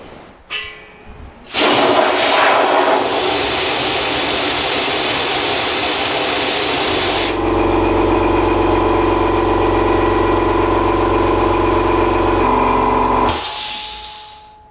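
Swan 30 litre low noise air compressor charging its tank after an air duster drains it: a steady, loud motor drone starts abruptly, holds with a constant hum, then shifts tone midway and cuts off near the end, with no talk.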